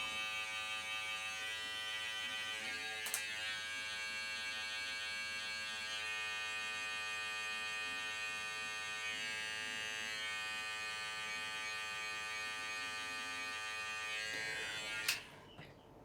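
An electric hair clipper fitted with a number 1 guard, lever open, buzzes steadily while blending a fade during a home haircut, a continuous close hum with a brief click near the end.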